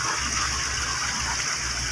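Water gushes steadily from a newly installed pump into a backyard fish pond, a continuous loud rushing and splashing pour with no talk over it.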